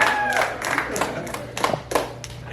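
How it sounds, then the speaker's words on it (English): A tiny audience of a few people claps at a small comedy show in Fort Worth, Texas, sparse uneven hand claps close by, mixed with someone talking over them. "you guys can keep, clapping."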